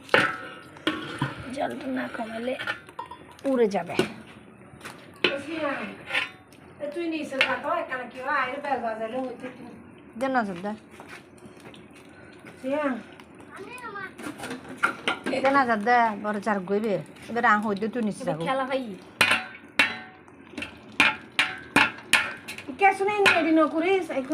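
Rice being stirred in a big pot of chicken biryani for fifty people over a clay stove, with scraping spoon-on-pot knocks and clatter scattered under someone talking throughout.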